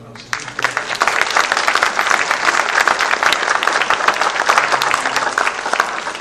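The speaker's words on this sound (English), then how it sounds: "I wouldn't even mind a round of applause." A fan convention crowd at a Tomorrow People Q&A in Leicester breaks into applause in tribute to Phil, a sudden start of close, crisp clapping that swells into a steady, loud ovation.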